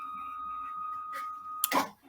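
A GCC Expert II LX vinyl cutter powering on: a steady electronic hum with a faint motor whine, a soft click partway through and a short louder mechanical burst near the end, heard alone at close range.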